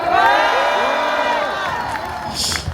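A crowd at an outdoor rally against a presidential impeachment in Seoul cheers, whoops and applauds loudly for an introduced youth speaker, voices and shouts overlapping throughout.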